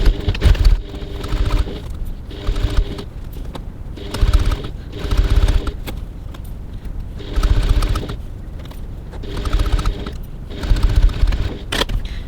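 Sewing machine stitching the phone pocket of a Boxed Bliss handbag at a 3.2 stitch length, loud mechanical whirring in bursts of a second or two separated by short pauses.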